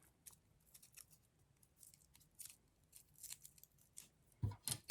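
Scissors trim a florist tape-wrapped flower stem: a quiet scattering of small crisp snips and rustles, close by, ending in a few louder cuts and handling sounds.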